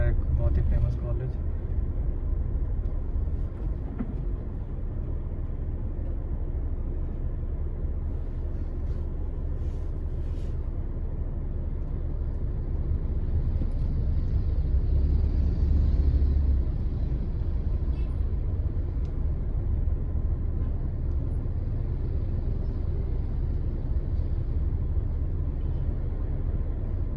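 Dense traffic jam on Bangalore's Outer Ring Road, with a constant low rumble of idling cars and buses, a brief heavier engine swell midway, and faint higher noises from the street.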